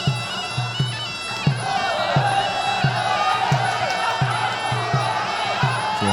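Crowd cheering at a Muay Thai bout: a steady roar of many voices over a regular, thumping drum beat that keeps time throughout, loud and close.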